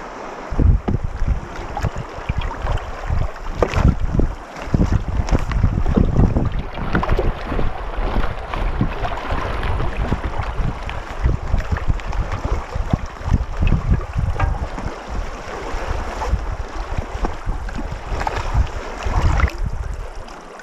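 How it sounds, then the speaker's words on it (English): A sailing kayak moves across Lake Superior, with steady loud rushing water and buffeting wind over the microphone continuing throughout, without any voices. "I've been sailing for like 5 hours now, and the winds are just getting better."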